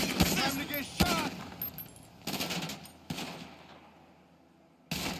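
Machine-gun bursts and rapid gunfire in the video game Grand Theft Auto V, loud and dense, in several sharp volleys separated by short lulls, with a voice speaking briefly near the start.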